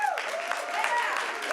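Audience applause at a Senate Education Committee hearing in a room, a dense steady patter of clapping from many hands, fairly loud throughout with a voice briefly audible over it.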